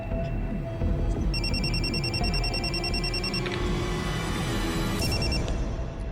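An electronic phone ringtone trills in repeated bursts over a low, steady hum, with a rhythmic pattern continuing throughout.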